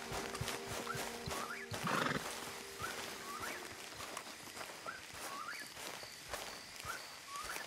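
Horses in Red Dead Redemption 2 clop steadily across ground, hooves thudding in an even walking rhythm, with a snort or whinny early on and faint chirping calls over the outdoor ambience.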